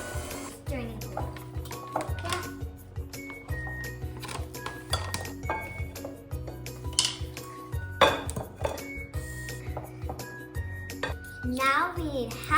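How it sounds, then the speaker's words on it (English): A spoon stirs gluten-free chocolate chip cookie dough in a bowl, giving repeated close scraping and clinking knocks against the dish in an irregular rhythm, with scattered light chinks of utensils and glass nearby. "Stirring it a little."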